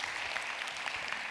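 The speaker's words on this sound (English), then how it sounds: "Can we give him a big round of applause and say thank you" Audience applause in a student gathering, a sustained crowd of hands clapping at moderate volume with a few sharper individual claps standing out from the steady wash.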